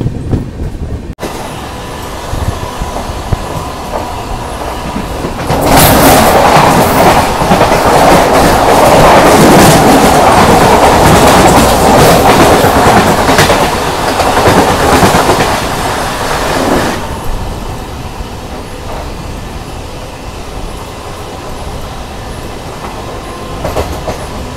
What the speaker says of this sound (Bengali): নাজিবাবাদ থেকে ছেড়ে দিল আমাদের ট্রেন